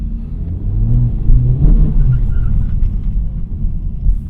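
An Acura Integra Type S fitted with FL5 Civic Type R dampers drives along a road in comfort mode. A steady, loud low rumble of engine and road noise fills the cabin throughout.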